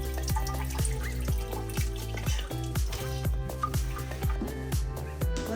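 Dirty water drains steadily from the flipped-up dump valve of a Sandia Dragon restroom cleaner (80-7000) into a nearby floor drain, a continuous rushing flow with a rhythmic mechanical pulsing hum underneath and no talk.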